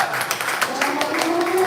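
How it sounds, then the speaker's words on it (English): A small audience claps in scattered bursts at a live certificate-presentation gathering, with a person talking over the applause. "At least give a clap for him actually."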